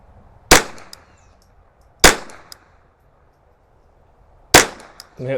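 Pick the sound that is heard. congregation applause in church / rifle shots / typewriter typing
rifle shots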